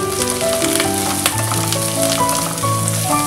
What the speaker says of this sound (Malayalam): എണ്ണ ചൂടായി വരുമ്പോൾ ഇതിലോട്ട് നമ്മൾ ചതച്ചു വെച്ചിരിക്കുന്ന ഇഞ്ചി വെളുത്തുള്ളി ചേർത്ത് കൊടുക്കുക